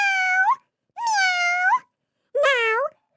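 Three drawn-out cat meows, each about half a second to a second long, sound clearly and close with short silent gaps between them, used as an effect in a read-aloud children's story.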